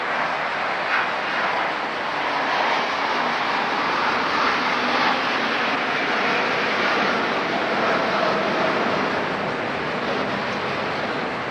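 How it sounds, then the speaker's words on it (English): Aeroplane flying over a tennis stadium at the 1987 US Open final, a broad, steady roar filling the whole stretch without letup. "That aeroplane timed itself rather well, just before Martina serves at 5-6, first set."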